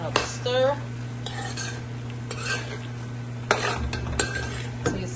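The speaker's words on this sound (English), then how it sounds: "Give it another stir." A spoon scrapes and clinks against a pan while chicken pasta sauce is stirred, with intermittent metallic taps and light sizzling over a steady background hum.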